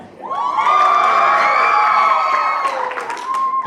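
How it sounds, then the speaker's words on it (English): An audience claps, cheers and screams loudly for a contestant, a sustained burst of crowd noise with high shrieks and whoops that fades slightly near the end. "Loudest claps and cheers and screams win."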